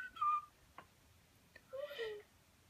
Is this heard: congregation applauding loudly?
no